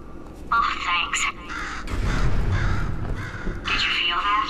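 Crows cawing in the video game Portal 2, several sharp harsh caws in bursts over a low ambient rumble, fairly close and clear.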